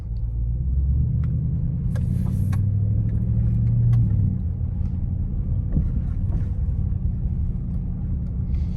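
A 2021 Dodge Durango R/T rolls along a road full of potholes, its cabin filled with a steady low engine and tire rumble, with a few thumps and knocks from bumps and light rattles inside.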